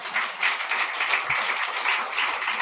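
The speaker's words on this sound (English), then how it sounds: "I want to extend another round of applause and thank you to ENY and BLG." Audience applause at a Canadian Club speaking event, a steady, dense wash of clapping from a crowd that holds at an even level throughout with no talk over it.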